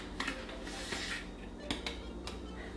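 A spoon stirs protein powder into a thick mousse in a bowl, giving a steady close scraping and soft clinking against the bowl with a few sharper taps.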